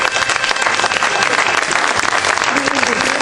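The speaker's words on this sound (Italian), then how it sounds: "un applauso grande io lo voglio fare a Franco Crespan" Loud, dense audience applause for Franco Crespan at an end-of-school-year folk group event, with a speaking voice heard over the sustained clapping.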